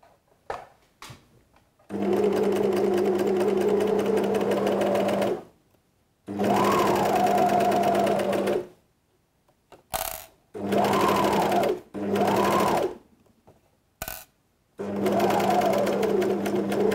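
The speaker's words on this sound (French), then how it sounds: "Donc, je vais venir surjeter ici tout le long." An overlocker sergeing along the lining seam of a swimsuit runs in several long, steady bursts separated by short pauses, its motor hum loud and close, with no talking over it.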